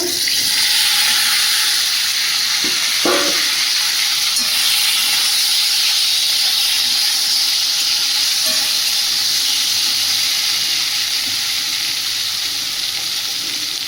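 Bay leaf, whole cumin and fried banana-potato pieces hit hot oil in a pan and set off a loud, steady sizzle and hiss that runs unbroken throughout, with a few faint clinks near the start.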